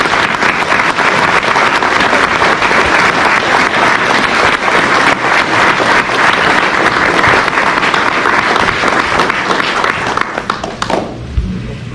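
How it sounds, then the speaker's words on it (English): Sustained applause from the audience at a local ceremony honouring veterans, a dense, loud wash of clapping that holds steady for about eleven seconds and then drops off sharply at the end. "technically we never gave him a formal round of applause"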